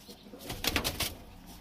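A Malbai pigeon in a loft gives a brief close coo, a few soft pulses rising and fading within a second or so, with light flutter around it.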